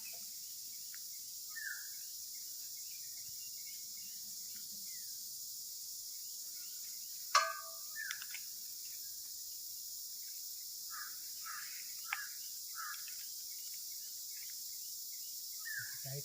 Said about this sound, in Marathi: पक्ष्यांचा आवाज बघा काय मस्त येतोय.